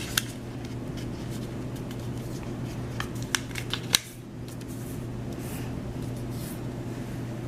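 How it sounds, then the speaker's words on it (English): Paper being folded into a paper airplane, with a cluster of soft crinkles, creases and rustles in the middle of the clip over a steady hum, with no talking. "So we'll fold one corner down"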